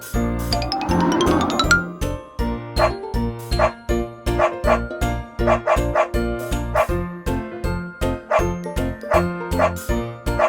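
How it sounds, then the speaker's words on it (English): A kids' farm-animal cartoon dog barks in a quick, regular series of bright, cartoonish woofs, preceded by a short jingling chime, all close and clear with no talking. "Dog."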